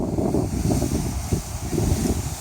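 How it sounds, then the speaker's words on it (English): Air rushing into an X-Lounger nylon inflatable lounger outdoors, a steady, loud whooshing roar with gusty buffeting against the microphone, continuous throughout. "So you kind of want to run down and fill it up with air"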